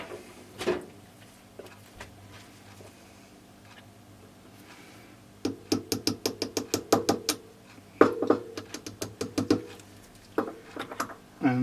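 Metal socket tool tapping and ratcheting a sealed rear wheel bearing into place on a motorcycle final drive, a quick run of sharp clicks and knocks repeating in bursts, close and fairly clear, no talk.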